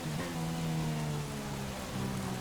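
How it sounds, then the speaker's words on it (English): Heavy rain in the F1 2016 racing game during Spanish Grand Prix qualifying, a dense continuous hiss of downpour with a low hum of engine noise beneath, steady and alone. "Haven't driven heavy rain in quite some time in quali"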